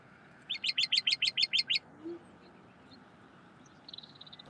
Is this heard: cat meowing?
no